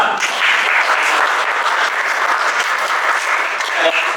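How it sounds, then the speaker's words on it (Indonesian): Dense, loud applause fills a university lecture hall at the close of a teaching presentation, sustained evenly for the whole few seconds with no talking over it. "Tepuk tangan dulu untuk kita semua."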